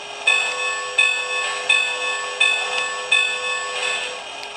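A small model train locomotive bell rings steadily, six evenly spaced clangs, each fading into the next, clear and close.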